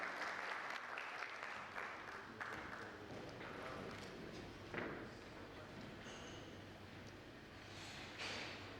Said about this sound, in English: welcome her with a huge round of applause